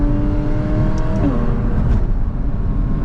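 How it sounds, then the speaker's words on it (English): A turbocharged McLaren sports car engine roars loudly and steadily up close, its pitch dropping briefly partway through as it shifts. "The turbos, the backfires, the turbo spooling, the blow-off valve"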